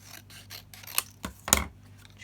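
Scissors trimming vellum paper up close, with a few soft rhythmic snips followed by two sharper cutting clicks, quiet and alone without talk.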